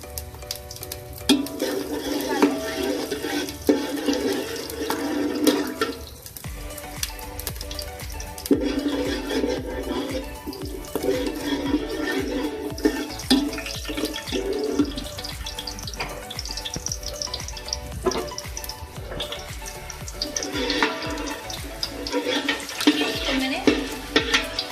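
Whole spices, flowers, ginger, cloves, black peppercorns and black cumin fry in hot ghee. A steady sizzle and crackle carries on under repeated stirring and scraping, with brief pauses between bursts.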